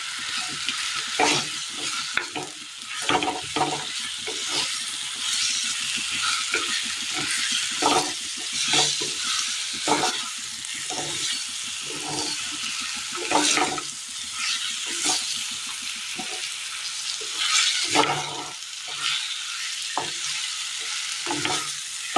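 Chicken pieces fry in masala for a Kerala curry, giving a continuous bubbling sizzle with repeated scraping strokes of a spoon stirring through the pan at an uneven rhythm, close and fairly loud.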